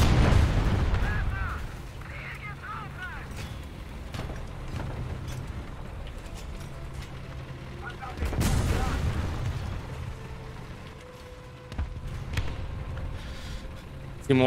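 A German premium RU 251 tank fires its cannon in War Thunder: a few heavy booming shots spaced through the clip, with an early blast and a strong one near the middle, over rumbling game noise and someone talking.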